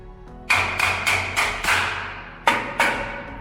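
Seven heavy metallic thumps, hammer blows on the metal chassis of a 4x4 camping trailer, landing in a loose rhythm with a ringing clang after each strike; close and loud, no talking.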